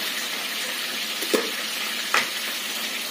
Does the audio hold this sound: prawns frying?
yes